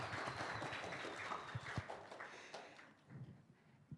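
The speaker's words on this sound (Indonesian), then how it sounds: "Kasih tepuk tangan buat Jason" Audience applause for Jason at a church gathering: a dense, steady patter of many hands clapping, fairly close, with a few sharper individual claps near the end.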